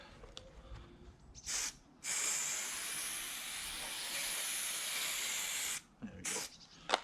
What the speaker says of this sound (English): put a bit of spray on the back of the wood as well